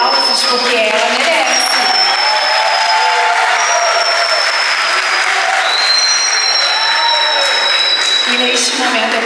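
Sustained audience applause fills a quinceañera celebration for the debutante, dense and steady for several seconds with a few whistles and cheers rising above the clapping.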